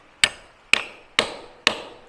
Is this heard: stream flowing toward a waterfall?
no